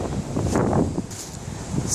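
Strong wind gusts blowing outdoors through bare trees near an apple tree, a steady broadband rush and buffeting with swells and dips throughout, close and loud on the microphone.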